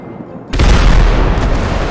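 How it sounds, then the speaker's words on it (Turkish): A sudden loud explosion in the video game GTA 5 bursts in after a quiet moment, followed by a sustained, rumbling roar that fills the rest of the moment. "Bayağı bir patlama oldu daha demin, duydunuz değil mi?"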